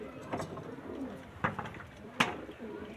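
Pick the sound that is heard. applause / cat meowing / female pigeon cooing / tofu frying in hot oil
female pigeon cooing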